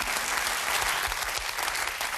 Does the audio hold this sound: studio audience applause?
yes